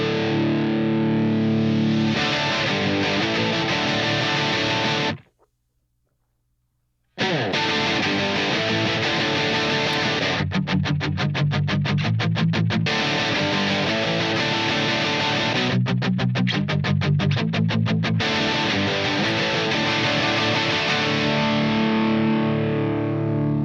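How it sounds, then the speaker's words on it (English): A Gibson 335 electric guitar plays heavily distorted chords through a Diesel VH4 amp, loud and continuous, with a brief silent break and stretches of choppy, rhythmically muted strumming. "the 335s down here, like I said, are through the diesel. I think it's the VH4."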